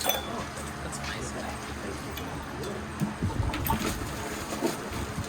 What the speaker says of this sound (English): Now we're going to throw a couple ice cubes in it.